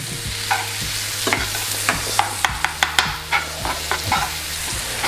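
Tofu scramble with oat milk being stirred in a frying pan, a quick series of scraping strokes against the pan over a soft, steady sizzle, close up and without speech.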